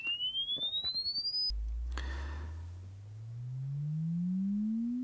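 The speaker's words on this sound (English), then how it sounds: "when I play just the sine wave, it peaks here at minus 32 dBFS and is the same level" A steady pure sine tone sweeps slowly upward in pitch while a delayed copy is mixed in, creating comb filtering that makes the level swell and dip. The tone sounds alone and loud, without talking.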